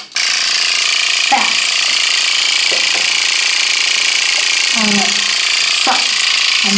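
A microneedling pen set to 1 millimeter runs on skin. It gives a loud, continuous motorized buzz close by throughout, while someone talks over it.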